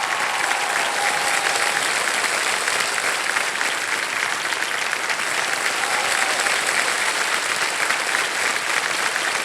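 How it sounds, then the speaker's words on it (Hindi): Dense, continuous applause from a television game-show studio audience, even and full throughout with no pauses and no talking. "तालियां बजती रहे तुम्हारी पूजा जी के लिए।"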